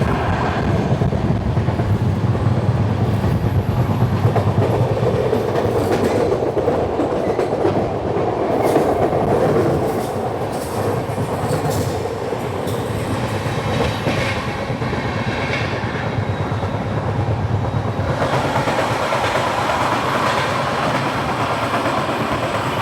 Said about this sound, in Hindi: तो अभी हमारी ट्रेन स्किप करने जा रही है वटवा को।